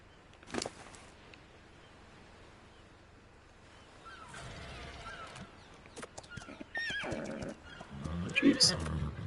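A horse whinnies in the survival game Ark, short neighs heard faintly at first and then more strongly near the end, under people talking.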